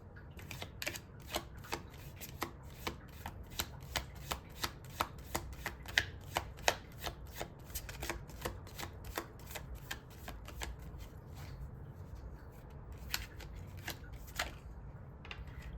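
Tarot cards are shuffled quietly and close by, a long run of crisp, evenly spaced card flicks and snaps over a soft background hum, with no talking.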